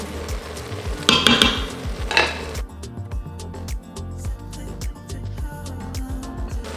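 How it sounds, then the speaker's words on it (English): Garlic sautéing in a pot for leek and potato soup, a gentle sizzle beneath stirring and metallic clinks of a utensil against the pot, close, with a brief louder burst early on. "I'm just gonna add in the garlic and let that start to saute just a bit"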